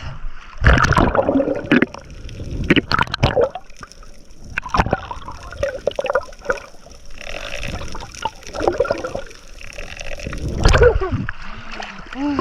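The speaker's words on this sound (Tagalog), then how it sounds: "Nakasalubong tayo ng sobrang lakas ng agos" Strong river current splashing and churning around someone wading in the shallows, loud irregular bursts of splashing water close by, with voices talking over it throughout.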